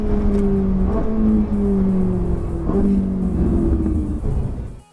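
Ferrari 458 Italia on a race circuit, its engine droning loudly through rising gear pulls with brief dips at each shift, then easing off under braking near the end, close and continuous.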